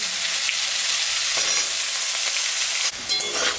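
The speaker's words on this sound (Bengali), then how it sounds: "এখন গাজরটা দিয়ে দিলাম।" Carrots hit hot spiced oil in a pan, a loud continuous close-up hiss of frying that holds steady, then a brief stir and fresh burst near the end, with no speech.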